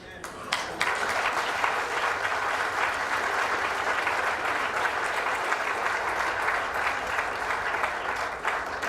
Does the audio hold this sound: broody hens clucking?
no